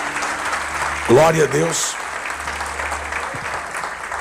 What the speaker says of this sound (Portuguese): Então vamos aplaudir a esse casal maravilhoso.